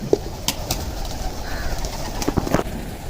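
Homer pigeons coo softly nearby amid faint background noise and a few scattered clicks and rustles.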